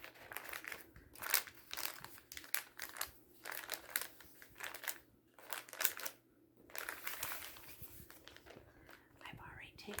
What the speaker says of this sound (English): Everything seems to be coming in these envelopes now, which I absolutely love the sound of.